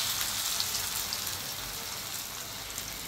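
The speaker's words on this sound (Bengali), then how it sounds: "আর এখন হলো যে পেঁয়াজটা ভাজিয়ে নিতেছে" Onions frying in a pan while a meal is prepared for iftar, giving a steady, even sizzling hiss that holds throughout at moderate volume with no talking.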